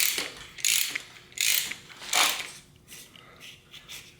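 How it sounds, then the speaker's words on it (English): A ratchet wrench unscrewing adjuster caps on a rusted, seized RST Gila T5 suspension fork: three close bursts of rapid clicking ratchet teeth, then fainter, shorter clicks toward the end. "So, got a ratchet wrench here, and just unscrew these."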